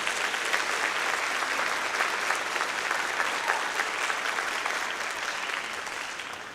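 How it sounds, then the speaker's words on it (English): Audience applause for Lamar State College Port Arthur at a luncheon: dense, sustained clapping from a large room that fades slightly at the end. "I'd like you all to give a round of applause for Lamar State College Port Arthur"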